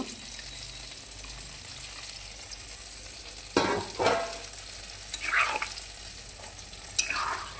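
Rice stirred and frying in a hot pan gives a soft steady sizzle, broken by several short, louder hissing bursts as a little water goes in and spatters, close up with no voices.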